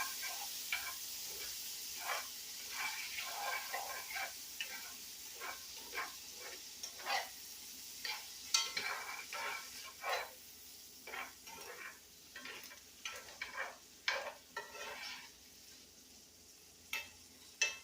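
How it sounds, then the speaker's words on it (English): Corn charring in a buttered pan that previously held bacon, giving a steady soft sizzle with frequent sharp pops and crackles scattered throughout, close and moderately quiet, with no talking. "you want to cook the corn until it gets some char on it"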